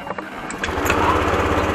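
A Honda Click 125i scooter engine idles just after cleaning, a steady close putter with a buzzy light-engine tone, continuous and fairly loud throughout.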